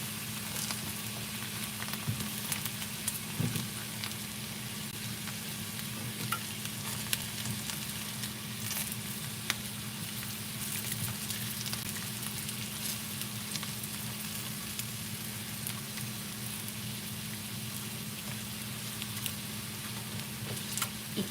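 Plantain slices fry in a little oil with a constant, even sizzle and crackle. Small pops and faint stirring clicks come through now and then, close up and without speech.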